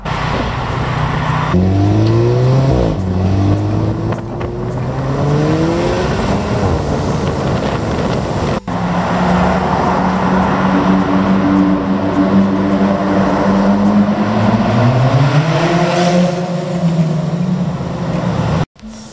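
A supercar's engine revs repeatedly, rising and falling whines climbing in pitch through several gear-like sweeps, loud and close, with a brief break midway before more revving, no talk.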